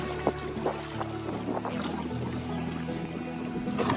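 A cargo ship passes close to a small fishing boat out on the water: a steady low engine drone and hum, with water washing around the hull under overcast, rainy skies.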